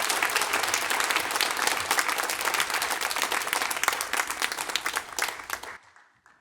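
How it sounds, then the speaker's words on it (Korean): A church congregation at a Sunday worship service claps warmly to welcome a visiting missionary speaker, a dense, steady applause filling the room for several seconds before stopping abruptly and trailing into quiet. "我们热烈的掌声欢迎他为我们讲话语。"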